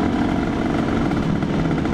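A Honda NSR 150 two-stroke motorcycle engine drones loudly and continuously at close range, a buzzy, rasping note holding steady without a break in pitch.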